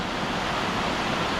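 River rapid water rushes in a steady, loud broadband roar up close, continuous with no pauses or voices.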